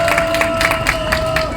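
Crowd applause and scattered cheering at an outdoor street protest, a dense steady wash of clapping from many people throughout, with a faint sustained tone running underneath.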